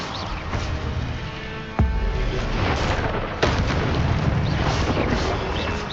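Spell effects from Hogwarts Legacy, including stunning, fire and levitation charms, sound as a dense, continuous roar of magical blasts, with two sharp booming hits standing out over the rumble.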